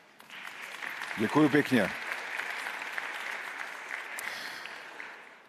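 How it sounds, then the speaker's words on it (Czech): An audience at a retail conference opening applauds, a steady even patter of clapping that starts quickly and carries on to the end while someone briefly speaks over it near the start. "Myslím, že to se asi sluší zatleskat."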